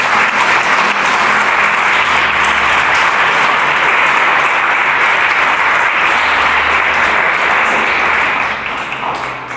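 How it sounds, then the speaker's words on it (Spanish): Congregation applauding in church during a Spanish-language service, a loud, dense, sustained roar of many hands clapping together that holds steady for several seconds before easing slightly at the end. "Le damos un aplauso a nuestro Señor."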